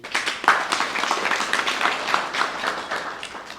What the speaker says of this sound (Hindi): सृष्टि के लिए एक बार ताली बजाइए सभी